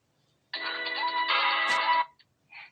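Phone ringtone on a call to Metro by T-Mobile customer service, a steady electronic ring lasting about a second and a half, clear and fairly loud, followed by a brief faint tone.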